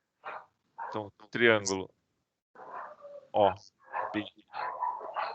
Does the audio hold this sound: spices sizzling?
no